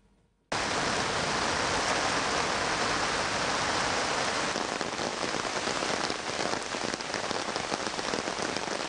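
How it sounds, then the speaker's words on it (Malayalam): Heavy monsoon rain in Idukki district, Kerala, starts abruptly after a brief silence as a loud, steady hiss of downpour on surfaces that carries on unbroken, with no voices. "ഇടുക്കി ജില്ലയിൽ ഇന്നും ശക്തമായ മഴ തുടരുകയാണ്."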